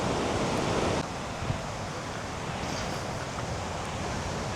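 Sea waves washing in at Karon Beach, Phuket, near cliffs, heard as a steady broadband roar of surf, louder for the first second then settling into a continuous wash, with some wind on the microphone and no voices.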